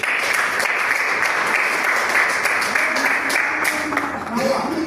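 Sustained applause from a Toastmasters club meeting audience, a steady dense wash of many hands clapping at even loudness for the whole stretch, with some speech mixed in.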